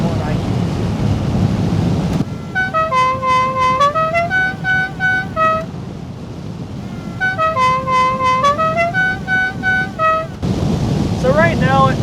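A Dixie horn on a truck themed after the General Lee plays its musical melody twice, loud and close, with wind noise rushing before, between and after the tunes.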